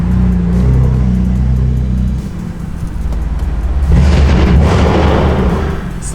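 A BMW E92 M3 engine idles and runs at about 2,000 RPM, a loud, deep, rumbling exhaust close by with a rougher burst partway through.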